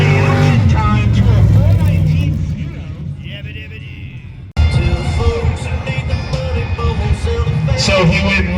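A sand drag racing car makes its run at Dome Valley Raceway, its loud engine roaring and then dropping away before a sudden renewed burst of racing noise, all under continuous announcer commentary.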